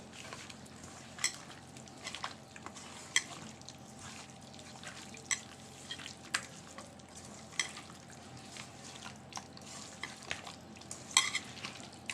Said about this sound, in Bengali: দুই কুশ রান্নার সয়াবিন তেল দিয়ে দিচ্ছি এটা দিয়ে আমি আগে শুকনো মশলাগুলো একটু মাখিয়ে নিব